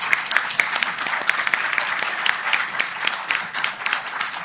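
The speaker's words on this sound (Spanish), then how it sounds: "A Marcelo y a Laura, les damos un aplauso." Steady applause from a seated audience at a science panel on climate change, thanking two speakers; dense continuous clapping fills the room for several seconds at even loudness, with no talk over it.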